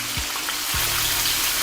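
Chicken pieces deep-frying in hot oil for a loaded chicken burger, a steady dense close-up sizzle throughout with a couple of brief low thumps, no talk.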